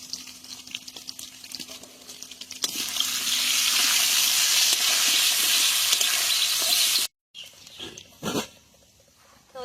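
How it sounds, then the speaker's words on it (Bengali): Potatoes fry in oil with salt and turmeric in a village kitchen, a loud steady sizzle that swells after a quieter start, then cuts off abruptly, followed by faint clatter and stirring noises; no speech. "তো ওইদিকে আলুটা ভাজা হতে থাকুক"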